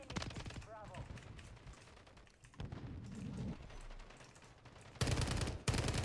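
Video game gunfire comes in rapid automatic bursts, loudest near the end, mixed with mechanical clatter and speech.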